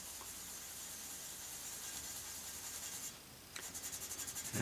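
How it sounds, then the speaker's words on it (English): A green scouring pad rubs in circles over a steel sword blade, giving a steady, soft, hissing scrub with a faint rhythmic pulse and no talk. "I take this green scouring pad, and you can see I'll just work a little bit of a circular motion"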